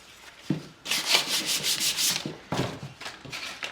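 Hand sanding of a rough pine board with 180 grit sandpaper: close, raspy back-and-forth strokes in a steady rhythm, with a brief pause before a second run of strokes, no talk.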